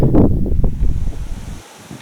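Gusty wind on the Burshtyn canal rumbles against the microphone in loud bursts, easing off and fading toward the end.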